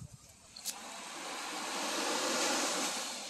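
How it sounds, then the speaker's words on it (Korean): Ocean waves wash onto a beach on Ko Lan island off Pattaya, Thailand, a soft broad rush of surf that swells gradually louder and holds steady. "파도 소리가 들리죠?"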